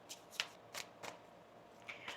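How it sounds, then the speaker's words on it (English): Tarot cards being shuffled by hand, a few soft riffling flicks at an uneven rhythm, faint and close in a quiet room. "One more shuffle here, please, and thank you."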